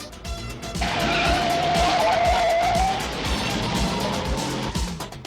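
A car in an action movie chase is driven hard and skids with a loud tire squeal lasting about two seconds over a roaring engine, then the motor noise carries on.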